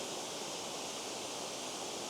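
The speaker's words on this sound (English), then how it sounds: "This is a nice waterfall" Tianna Falls pours in a steady, unbroken rush of water at close range, broadband and even throughout with no other sounds.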